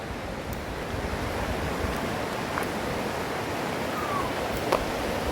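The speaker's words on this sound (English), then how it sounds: "So this is the Walla Walla River." Walla Walla River water flowing outdoors, heard as a steady broadband rush that holds constant throughout with no talking.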